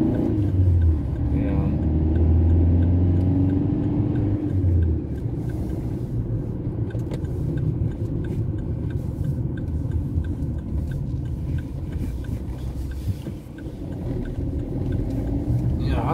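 Cars pass steadily on a busy road at a traffic-light junction, a continuous near rumble of engines with a louder swell early on, while people talk over it.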